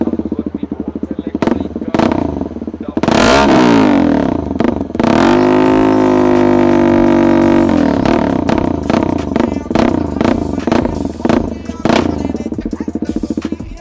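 An NS400Z motorcycle with a full system exhaust revs loudly up close, with sharp throttle blips and a sustained rising roar, and speech is heard alongside.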